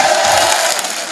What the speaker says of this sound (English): Everybody start screaming